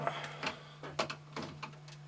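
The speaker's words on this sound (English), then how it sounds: "let's grab a suitable screwdriver and let's get these screws out" Screws being backed out of a Texas Instruments TI-99/4A home computer case with a screwdriver, giving a few faint, irregular scraping ticks and clicks at close range over a steady low hum.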